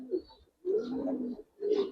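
Giribaz pigeons, two pairs, give soft, low coos in three close-by bursts, a short one, then a longer rolling coo and another, with brief silent gaps between.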